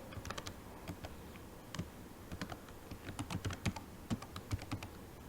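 An email address is typed on a computer keyboard in quick, irregular clusters of light clicking keystrokes, close by and fairly soft, with no talk.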